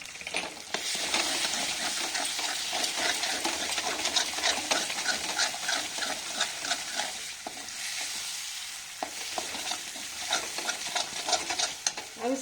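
A homemade matar paneer mixture fries in a pan as a spoon stirs it continuously, giving busy repeated scraping strokes over a constant close sizzle.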